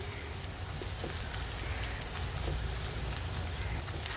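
Onions sizzle steadily in hot oil in a pan, browning before dried boal fish goes in, a dense continuous crackle close by with no talking.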